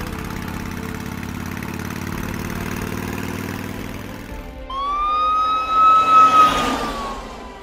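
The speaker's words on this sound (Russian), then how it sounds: "Пожар слишком большой, надо срочно подгонять пожарную машину и тушить с большого шланга." Fire engine from a Lego cartoon, its idling engine rumbling first, then a loud rising siren wail cutting in partway and holding to the end.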